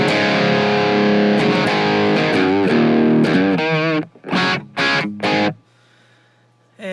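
A dry electric guitar runs through a Bogner amp, Marshall-like in character. It rings with sustained chords, then a few short choppy stabs, and cuts off to near silence with a faint hum.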